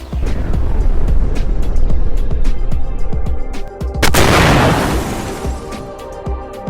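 Loud crashing attack effect for the monster Timaeus in a Yu-Gi-Oh video game duel: rapid sharp cracks and booms over a dense rumble, peaking in a big burst that fades into ringing decay.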